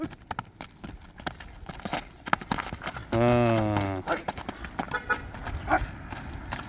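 A horse's hooves clip-clop in a quick, uneven patter close by, with a short whinny or horn-like tone partway through and some voices in the background.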